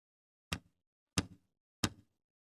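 Three firm knocks on a wooden door late at night, evenly spaced about two-thirds of a second apart, each a sharp close thud with a short decay, with silence between.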